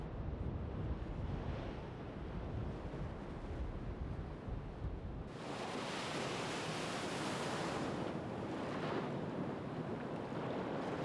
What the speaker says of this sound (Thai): ท่วงทำนองขับกล่อมอย่างนุ่มนวลของคลื่นช่วยผ่อนคลายจิตใจได้